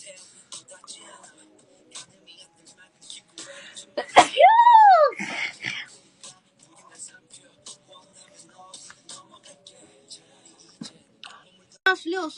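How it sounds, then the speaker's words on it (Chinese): A young Chinese woman with allergies gives one loud, wet sneeze close to the mic, a sharp burst after a brief inhale, surrounded by soft whispering and small clicks. "我要打个喷嚏。"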